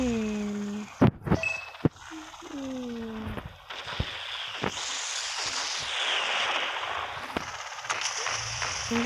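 Helicopter gunfire in the mobile combat game Gunship Battle comes in bursts of rapid shots, layered with game music and effects and sustained engine-like noise at moderate volume.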